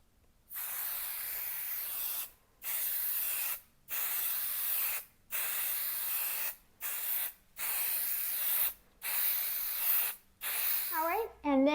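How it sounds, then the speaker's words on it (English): An aerosol can sprays adhesive for spray basting a quilt in about eight steady bursts, each a close, loud hiss lasting a second or two, separated by short silences. A voice is heard briefly at the end. "I'm just going to go ahead and spray base this whole area"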